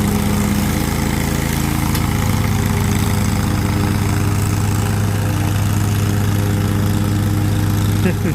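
A steady, low-pitched 40-horsepower engine on an Exmark Vertex mower rumbles continuously, loud and close, with a constant droning hum and no pauses.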